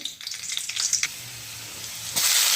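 Garlic sizzles in hot oil in a pan: a close, crackly frying hiss with a few stirring clicks early on, then a louder, brighter sizzle surging up near the end.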